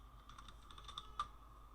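Quick, light keystrokes tap on a computer keyboard in a brief burst of close clicks, with one slightly louder key press near the end.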